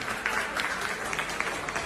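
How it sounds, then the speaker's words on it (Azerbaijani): Guests at a family wedding celebration clap in a light, scattered burst of applause. A voice murmurs faintly underneath. "Bir özünüz alqışlayın"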